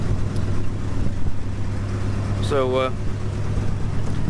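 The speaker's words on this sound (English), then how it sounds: "So pretty good running 6-cylinder." A six-cylinder crew cab truck engine idles steadily with a low, even rumble throughout, while someone speaks briefly partway through.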